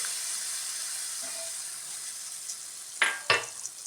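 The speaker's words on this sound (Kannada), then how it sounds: "ಇಷ್ಟು ಚಿಟ ಅಂತ ಬಂದರೆ ಈಗ ಒಗ್ಗರಣೆ ಹಾಕಿಡೋಣ." Hot tempering tipped into colocasia leaf gojju gives a soft steady sizzle, then two sharp bursts of hissing and spattering near the end, with no one talking.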